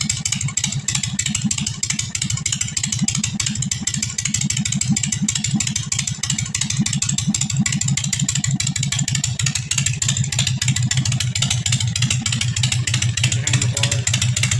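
Harley Sportster fitted with drag pipes idling, a loud, steady low-pitched rumble with a fast uneven lope that holds unbroken and close up throughout.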